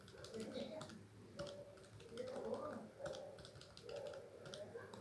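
Keys on a Casio FX-82MS calculator are pressed repeatedly in quick, soft clicks, faint and close, with a person talking throughout.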